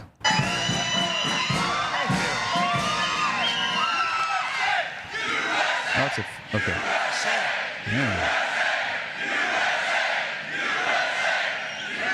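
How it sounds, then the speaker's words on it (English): A large crowd cheers and shouts at an outdoor summer evening event with the President, a loud, dense roar of whoops and calls running throughout, with brief spoken words in the foreground. "Sounds like a big crowd."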